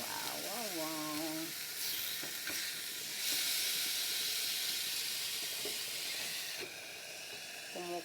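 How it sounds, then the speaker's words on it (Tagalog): A pot of water boils with a steady hiss and bubbling, while faint voices or tones drift in briefly at the start and end. "Kumukulo na rin ang ating tubig."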